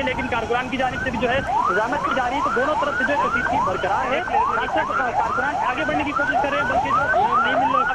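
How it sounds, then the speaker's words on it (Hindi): Wailing emergency siren, likely an ambulance, at a street protest where police are firing shells, rising and falling steadily and loudly throughout while a reporter talks over it. "आप मोबाइल की आवाज़ भी सुन सकते हैं कि एम्बुलेंसेस में उन्हें डालकर यहाँ से मुंतकिल किया जा रहा है।"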